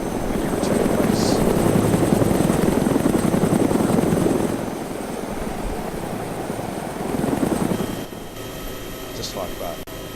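A transport helicopter takes off in the video game ArmA 2, its rotor thumping loudly for a few seconds before easing back, then swelling briefly again and fading to a lower hum.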